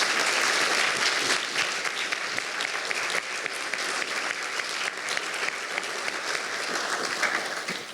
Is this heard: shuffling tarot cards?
no